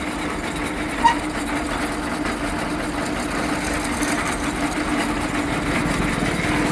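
A heavy-duty gearbox-driven tractor winch runs steadily in first gear, giving a continuous close mechanical engine drone with a faint whine and one short click near the start, and no voices.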